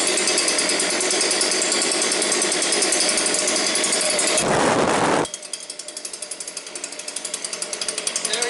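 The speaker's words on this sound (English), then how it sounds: "Single pull. That's what I love about this blower." A Stihl BG56 leaf blower running just after a cold start, with a loud, raspy two-stroke engine buzz close to the microphone, a brief roaring surge of air, then a rougher idle that climbs gradually.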